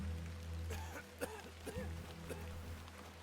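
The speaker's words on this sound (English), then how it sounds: "So when I heard the coughing, I thought we were waiting for someone to walk off" A character coughs a few times in the adventure game The Excavation of Hob's Barrow, producing short, muffled bursts over a constant rain-like background wash.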